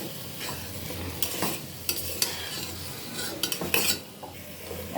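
Carrots and other vegetables with turmeric and salt sizzle steadily in a hot pan, while a utensil stirs and scrapes through them in irregular strokes. The cooking is close and fairly loud, and no one speaks.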